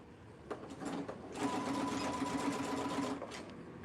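Sewing machine stitching cow print shorts runs in a steady, even whir for about two seconds, preceded by short start-stop bursts and ending with a few brief taps as the needle stops.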